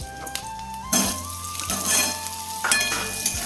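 Potato and pumpkin pieces with nigella seeds go into hot oil left from frying fish and sizzle loudly, with bursts of stirring and light clinks of utensil against pan.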